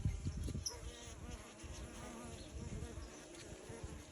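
Stingless bugia bees buzzing around their hives on a farm, a dense, faint hum of many insects with individual bees droning past, steady and without voices.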